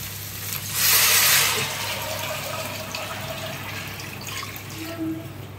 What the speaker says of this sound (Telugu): ఇప్పుడైతే నేను ఈ వాటర్ని ఇందులో యాడ్ చేస్తున్నాను.